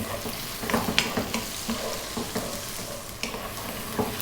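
Onion stir-fries in a pan over high heat, with a steady close sizzle and the repeated scrape and clatter of a utensil keeping it moving.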